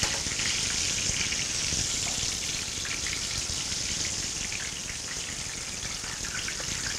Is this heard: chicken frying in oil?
yes